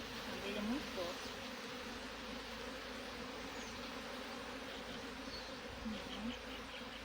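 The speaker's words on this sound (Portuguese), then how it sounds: "Ela é uma abelha dócil, viu? Uma abelha muito dócil." Bees buzzing in a steady, dense swarm drone during a hive capture, a continuous close hum with individual insects flitting past, while a voice speaks softly underneath.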